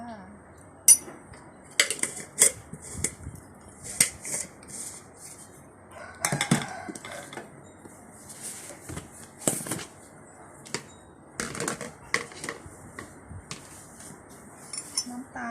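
A spoon scoops Ovaltine powder and clinks and scrapes against a glass in repeated short bursts, with grainy rustles between the sharper taps, close and moderately loud.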